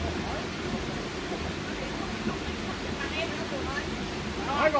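A forest waterfall roars as a steady, broad rush of falling water, with a person speaking briefly over the constant noise.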